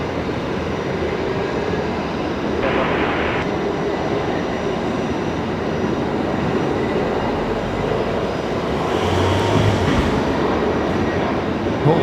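A jet airliner rolls down the runway for a full-length departure at Brisbane Airport, a loud, steady, broadband engine roar that holds throughout without a break.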